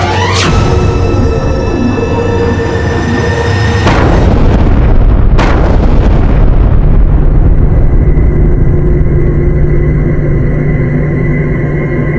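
A loud explosion in a TV drama bursts with a sharp blast, followed by a second crack and a long rumbling, roaring aftermath that fills the scene without speech.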